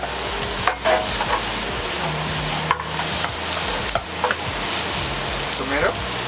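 Thai fried rice with leftover rice, egg, pork, tomato and onion is tossed in a hot pan, with scraping stirs and clatters over a steady sizzle that runs throughout.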